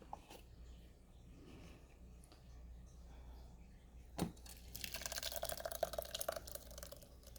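Smoky hot sauce made from peppers, onions and garlic is poured through a slightly larger strainer: a quiet stretch, one sharp knock, then a soft, steady liquid splash for the last few seconds.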